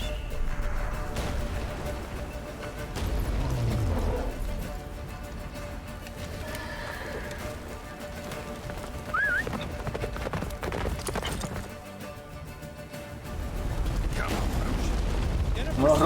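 The horse Roach gallops in The Witcher 3, hooves clip-clopping in a continuous rolling beat that rises and falls over several seconds, mixed with other game sounds.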